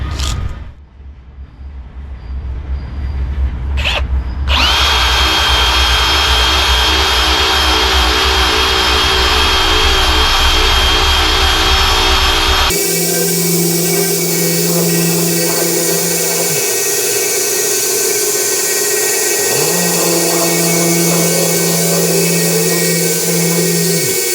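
A drill spinning a rubber eraser wheel to strip vinyl graphics off a truck's paint, a loud continuous high whine that shifts in tone partway through and rises and dips as the wheel bears on the surface, with no talking.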